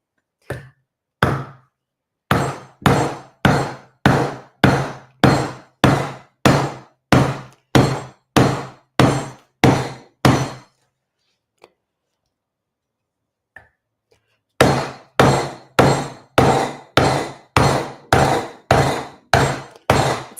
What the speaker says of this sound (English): Every time I hammer, it kind of gives in.